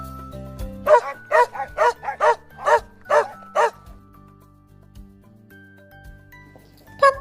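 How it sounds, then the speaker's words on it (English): A dog barks about nine times in a quick, rhythmic burst, close and loud, over a soft background melody. One more bark comes after a pause near the end. "Dog."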